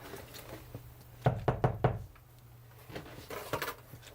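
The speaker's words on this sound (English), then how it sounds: "You knock on the wall." Knuckles rap on a wall: a quick burst of four sharp knocks, a pause, then a softer, looser cluster of taps, close and clear against a quiet room hum.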